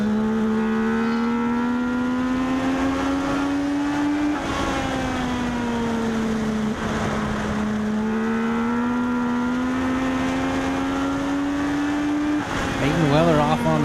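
Legends race cars circling the Magic Valley Speedway track, a loud sustained engine drone rising and falling in pitch as the cars accelerate, with an announcer talking over it throughout.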